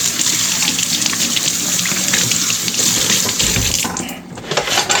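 Tap water runs steadily into a sink while green onions are rinsed, a constant splashing gush that dips briefly near the end before resuming, with no talking.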